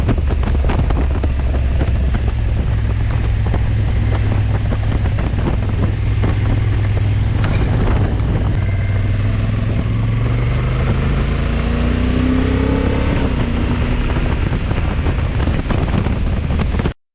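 A 2024 Honda Africa Twin 1100 motorcycle engine runs steadily up close on the road, its pitch climbing as it revs, with heavy wind rumble over the microphone throughout.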